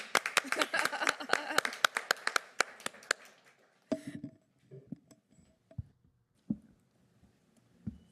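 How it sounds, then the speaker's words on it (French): A few people clapping at a borough council meeting, a sparse patter of close hand claps for about four seconds, then only scattered taps and faint room noises. "On peut vous applaudir. On vous applaudit."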